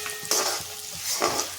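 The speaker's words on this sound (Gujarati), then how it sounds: "ત્યારબાદ આપણે નાખીશું 2 ચમચી તલ નાખીશું આપણે" Two spoonfuls of sesame seeds hit hot oil in a pan for undhiyu, giving a bright crackling sizzle with a spoon stirring through it and sharp popping bursts, with no voice.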